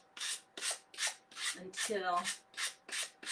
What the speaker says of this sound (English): I'm going to take my sanding block and I'm going to go around the edges